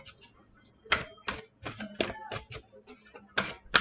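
Crisp, papery riffling bursts come in quick irregular clusters, close up and fairly quiet, as a tarot deck is shuffled by hand.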